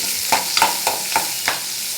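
Small onions sauté in hot oil with mustard seeds and urad dal, a steady sizzle broken by five evenly spaced scrapes of a stirring spoon against the pan, close up.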